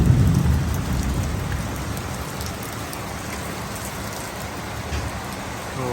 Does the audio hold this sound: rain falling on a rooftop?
yes